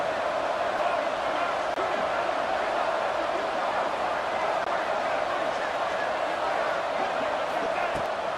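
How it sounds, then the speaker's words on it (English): Dense, steady stadium crowd roar from a Boise State college football video game, loud and continuous on third down with no gaps, a constant wash of cheering and noise. "This Boise State crowd bringing the noise. It's deafening here on third down."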